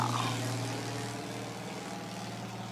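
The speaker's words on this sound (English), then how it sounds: "That's a private plane there." Private propeller plane passing overhead, a steady droning engine hum with a low pulsing tone, distant and fairly faint, holding level throughout.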